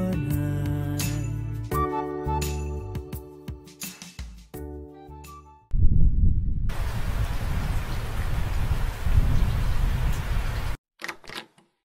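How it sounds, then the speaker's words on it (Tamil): Heavy rain pours down in a broad, steady wash of noise lasting several seconds, loud and continuous, and it follows a stretch of music before cutting off abruptly. "செம்ம மழை இல்ல."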